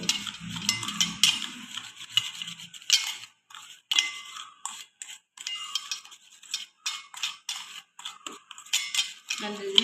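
A spoon clinks and scrapes in short irregular bursts against a bowl while a sugar foot scrub is mixed, close and fairly loud, with a brief voice at the start.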